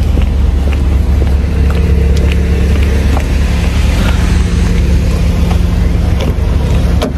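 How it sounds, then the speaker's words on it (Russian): A jeep engine idles steadily while warming up in the cold, a loud, constant low rumble with wind buffeting the microphone and no clear change in pitch. "Муж там уже греет машину"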